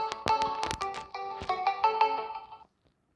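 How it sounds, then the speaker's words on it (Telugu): A melodic phone ringtone for an incoming call plays loud and close for about two and a half seconds, then cuts off into silence. "వాళ్ళ ఫ్రెండ్ ఒక అబ్బాయి ఫోన్ చేశాడు"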